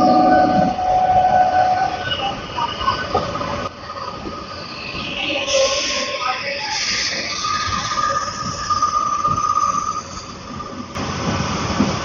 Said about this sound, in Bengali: হাওড়া থেকে নির্ধারিত সময়ের 2 মিনিট লেটে 6:28 ছেড়ে বেরোচ্ছে।